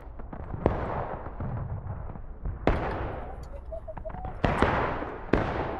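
Musket fire in a Civil War skirmish video game: loud individual cracks and booms at irregular intervals, each trailing off in a rolling decay, over a continuous battle rumble.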